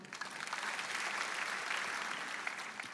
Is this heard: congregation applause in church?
yes